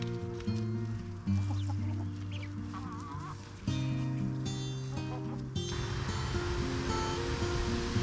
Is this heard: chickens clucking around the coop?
yes